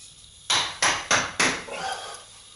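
Four sharp hammer strikes in quick succession, fairly close, each ringing briefly, followed by a softer fifth tap, during stock replacement on a VPO-205-00 gun.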